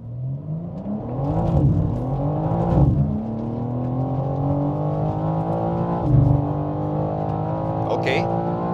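A BMW M4 Competition launches hard from a standstill on a race circuit, its engine note climbing through the gears with brief dips at each upshift, loud and close inside the cabin while someone talks over it.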